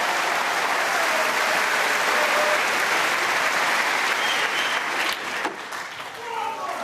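A snooker crowd at Alexandra Palace applauds a century break, a dense sustained clapping that fills the hall loudly for several seconds before thinning and tapering off near the end.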